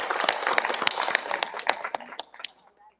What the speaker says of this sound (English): let's give them another round of applause for that phenomenal performance.